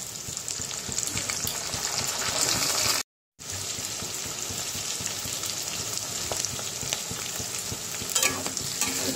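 Potatoes and onions fry with whole cumin in hot oil for a fish curry, a continuous close sizzle broken by brief stirring scrapes, with one sudden short dropout of sound partway through.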